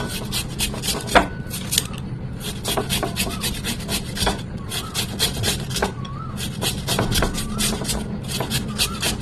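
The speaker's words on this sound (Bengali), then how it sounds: "তারপরে আমি একটা বড় বাটি নিয়েছি আর এটাতে আলুটা কাটা করে নিয়ে নেব।" Peeled potatoes sliced by hand into a large bowl in a home kitchen, giving a steady run of close, crisp rasping cuts in quick repeated strokes, with no talking.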